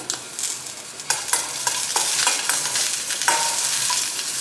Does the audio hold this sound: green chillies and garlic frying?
yes